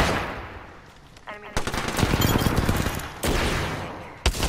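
Video game machine gun fire rattles in loud, sustained bursts, with several long rapid volleys broken by brief gaps, close and dominant.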